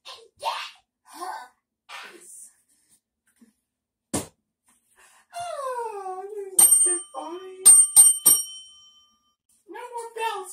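A bell rings in a cluster of bright, short strikes between bursts of voices and an exaggerated sigh. It is clear and close, with the chimes ringing out briefly before speech resumes.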